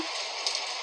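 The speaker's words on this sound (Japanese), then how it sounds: "まだ雨の音がしてる。" Steady rain hisses in the horror game Ao Oni 2, a soft, even broadband wash with no voices, plus two tiny drip-like ticks around the midpoint.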